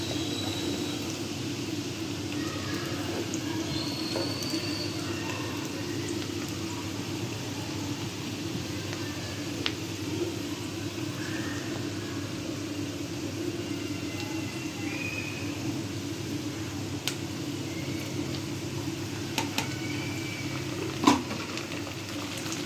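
Onions frying in a pan for a rohu fish korma, a steady low sizzle with a constant hum, with occasional faint clicks and scrapes of stirring and one sharper knock near the end, no talk.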